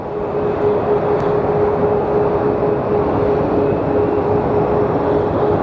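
Boeing 787 Dreamliner airliner at Phoenix Sky Harbor Airport, a steady, loud jet engine roar that holds evenly throughout with a constant tonal whine, no voices.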